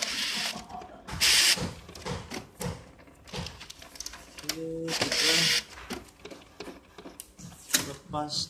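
An HP DeskJet Ink Advantage 2135 inkjet printer runs in short mechanical bursts, with whirring paper feed and a clacking print head, interrupted by people talking nearby.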